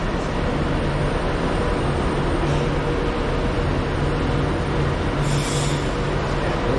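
A West Coast passenger train pulls away from Preston towards Glasgow Central, giving a loud, steady rolling rumble with faint wheel squeal, and the sound holds at a constant level throughout with no talk.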